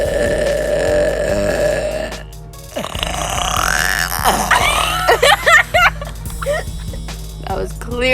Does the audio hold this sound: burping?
yes